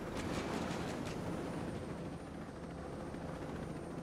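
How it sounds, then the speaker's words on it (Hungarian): Helicopter flying in the Ghost Recon video game, a fairly faint, steady rotor whir with rapid chopping pulses that are strongest at the start and then settle into a smoother drone. "Lezuhanhatatlan helikopterek."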